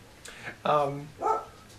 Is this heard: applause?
no